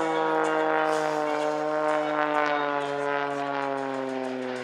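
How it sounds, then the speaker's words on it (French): An Extra 332 aerobatic propeller plane's engine drones loudly and steadily with a strong buzzing tone, its pitch sliding slightly lower as it passes nearby at an air show. "C'est un Extra 332."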